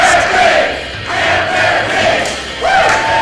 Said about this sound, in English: This crowd says it all with the Man Bear Pig chant